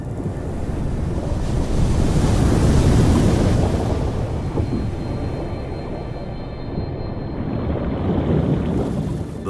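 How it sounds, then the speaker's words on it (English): Powerful Category 1 hurricane surf from Hurricane Irene pounding the north coast of Puerto Rico near San Juan, a continuous loud roar of breaking waves with heavy wind buffeting the microphone, swelling and easing without voices. "Irene strengthened into a Category 1 hurricane over Puerto Rico, with powerful waves striking the north coast."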